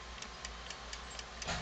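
A Westclox 1A alarm clock in nickel-plated brass ticks steadily, about four even, faint ticks per second, close and alone in a quiet room.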